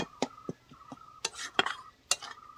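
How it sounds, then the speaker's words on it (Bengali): A spoon stirs and scrapes a minced rohu fish filling as it fries in a pan, giving sharp intermittent metallic clinks and scrapes over a faint, quiet sizzle. "এবার ভালো করে আরও একটু ভেজে নেব"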